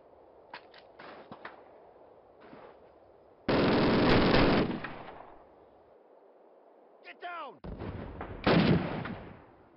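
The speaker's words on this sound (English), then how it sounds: "Machine gun." Gunfire in the Call of Duty campaign mission Festung Recogne, with several sharp short shots early, a loud sustained burst of machine gun fire in the middle and more bursts near the end, all fairly close and without talking.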